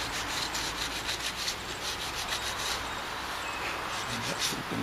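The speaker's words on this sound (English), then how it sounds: "A little bit of sanding in here. To feather that gray into the white." Sandpaper rubbing over the gray primer and white paintwork on a 1990 van, a continuous rough scratching hiss with quick back-and-forth strokes, close up and steady for several seconds, without speech.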